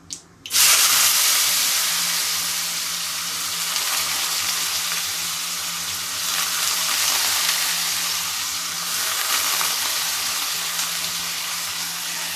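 Potato slices frying in hot oil in a pan, a steady loud sizzle and crackle that flares at the start and continues without pause, with no talking.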